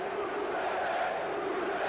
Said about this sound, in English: Listen to this Japan crowd here.